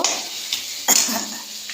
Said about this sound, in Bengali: এবার লঙ্কা, পেঁয়াজ এগুলো সব আস্তে আস্তে একটু ভালো করে কষিয়ে নেব।